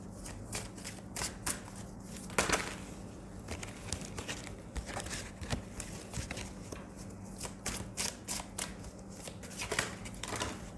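Tarot cards are shuffled repeatedly at close range, quick riffling flutters and soft slaps in an uneven rhythm, with no voices.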